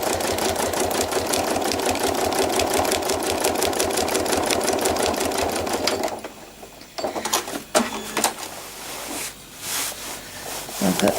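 Sewing machine stitching trapunto flowers, a fast, steady mechanical whirr of needle strokes for about six seconds, then stopping, followed by a few short stitches and faint handling clicks.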